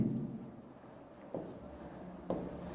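Chalk or marker writing on a board during a Sanskrit lesson: faint rubbing strokes punctuated by two sharper taps, close and quiet, with no voice over it.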